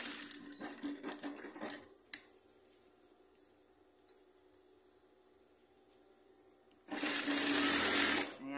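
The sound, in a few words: sewing machine hemming the bottom of trousers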